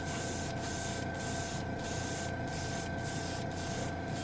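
Spray gun laying down a final wet coat of anodized metal paint, a continuous close hiss that runs throughout, broken by short rhythmic pauses about every half second.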